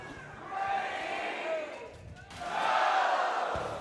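A live crowd at a Splatoon 3 grand finals esports event roars and chants through a countdown, a dense wash of many voices swelling louder toward the end.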